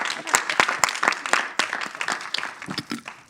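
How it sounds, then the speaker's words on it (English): An audience at an event honoring guests gives dense, steady applause at close range, clapping continuously for the whole short stretch with voices mixed in. "Please give another round of applause for our esteemed guests."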